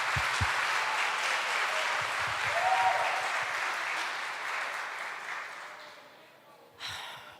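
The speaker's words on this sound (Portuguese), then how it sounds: "Vamos aplaudir o Senhor." A church congregation claps in steady, dense applause filling most of the clip, gradually fading toward the end, followed by a short burst of murmuring at the close.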